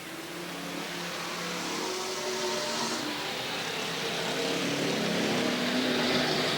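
Race cars roar around the oval at Willamette Speedway on the final lap of a 1989 race, a steady, loud wash of engine noise rising slightly as the pack passes, with no voices.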